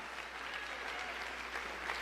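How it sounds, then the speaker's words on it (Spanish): Congregation applause during a church service, a faint, steady wash of clapping heard from a distance, even and sustained with no clear voices on top. "Dale aplauso al Señor."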